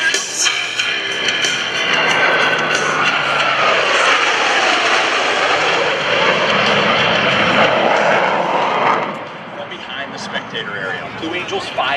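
US Navy Blue Angels jets fly a double farvel at an air show open house, a loud sustained jet roar sweeping past for about nine seconds before fading, with an announcer's voice partly under it.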